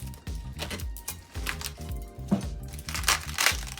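A knife working around the tough core of a raw cabbage, giving a run of close, crisp crunching and crackling cuts in an irregular rhythm, with no talking.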